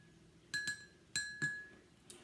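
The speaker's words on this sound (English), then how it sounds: "3 drops of food coloring and give it a little stir" A spoon stirs water tinted with food coloring in a glass cup, giving four bright, ringing clinks against the glass in quick uneven pairs, close and clear in a quiet room.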